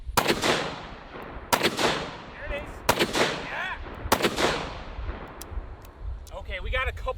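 Gunfire in a video game: four loud, sharp bursts at roughly even intervals, each trailing off before the next, with voices talking between and over them.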